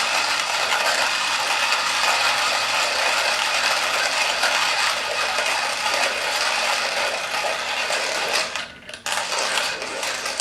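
Coffee beans for Aeropress coffee being ground in a grinder, a steady dense rasping crunch running continuously up close, easing and briefly dropping out near the end before resuming.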